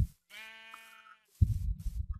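Minecraft sheep bleating in a German let's play, two clear wavering bleats separated by a short gap, with low rumbling game noise and no talk.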